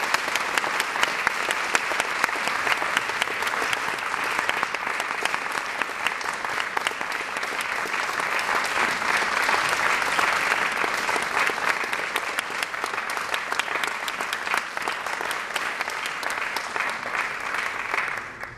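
A lecture-hall audience at the University of Regina applauds to welcome speaker Kevin Page, steady sustained clapping from many hands that carries on evenly for nearly twenty seconds before tapering off.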